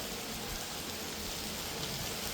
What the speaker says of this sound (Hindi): बारिश तो रहेगी 2 घंटे